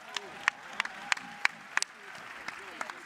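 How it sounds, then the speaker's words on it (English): Audience applause for a Congresswoman at a Black Caucus event, a scattered, thinning round of clapping with a few sharp distinct claps standing out, fairly faint and tapering off. "Let us give the Congresswoman another round of applause."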